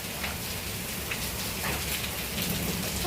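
Hailstones pelt down in a hailstorm over a village in Rajanna Sircilla district, a dense, loud, continuous patter of hard impacts with scattered sharper hits and no talking.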